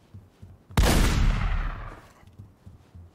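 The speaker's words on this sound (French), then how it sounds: "C'est où que ça tire là?" A single loud gunshot blast from The Godfather on Xbox 360 cracks out of near-quiet and decays in a long, rumbling tail over about a second before the room settles back to faint background.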